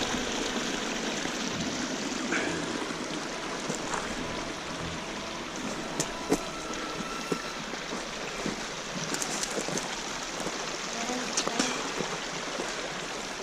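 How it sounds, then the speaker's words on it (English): Bodie Creek in Mineral County, Nevada, rushing steadily nearby, broadband water noise with small splashes and a few faint clicks, no talking. "Bodie Creek."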